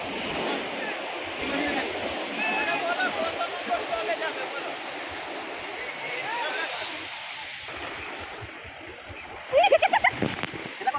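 Waves washing in and out at Udaipur beach, a steady rushing surf close by with splashes, while several people talk and call out over it and a louder splash comes near the end.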